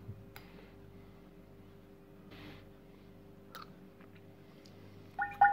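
Someone tasting raw cabbage dressed with honey, with soft close chewing and a few faint clinks of a spoon or dish in a quiet room.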